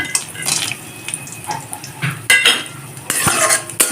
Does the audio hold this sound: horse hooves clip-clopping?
no